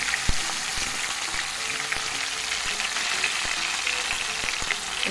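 Fish frying in a pot of hot oil for Jamaican escovitched fish, a steady close bright sizzle with crackling pops throughout, no talking.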